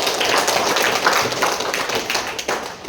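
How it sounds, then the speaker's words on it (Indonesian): A group of students at a school event claps enthusiastically, close and loud, with individual hand claps audible in an irregular patter that keeps going for the whole stretch. "Tepuk tangan dulu."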